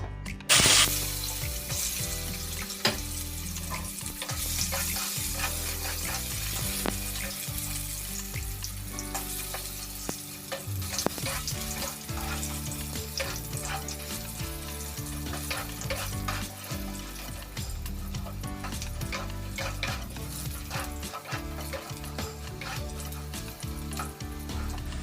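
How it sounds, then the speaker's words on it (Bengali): Sliced raw green banana frying in hot oil, a loud continuous sizzle with frequent crackles and scraping stirs of a spatula in the pan, close up and without talk. "এবার আমি কেটে রাখা কাঁচকলাটা ভেজে নেব।"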